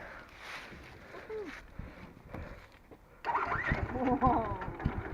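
A Chang Jiang 750 motorcycle is started: quiet handling noises, then an engine fires up with sudden rough, pulsing low rumbles while people talk close by.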